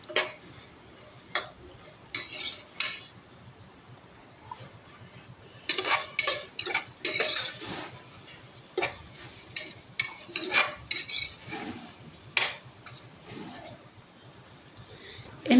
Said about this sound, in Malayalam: നമുക്കിതൊക്കെ ഒന്ന് നല്ലോണം ഇളക്കി കൊടുക്കാം.